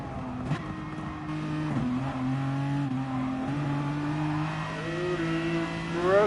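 Onboard a race car at the LNR SAGTL 2022 Gold Pool race, the engine drones steadily, then a brake and downshift bring a blip of revs and an aggressive climb in pitch near the end, loud and close.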